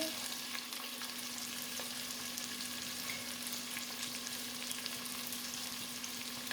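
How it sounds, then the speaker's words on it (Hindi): Sliced onions sautéing in a pan for a keema aloo matar dish, giving a steady, close sizzle and fry hiss with a faint continuous hum underneath and no voices. "प्याज इसमें ऐड हो गई है, इसको अच्छा सा हम सौटे करेंगे"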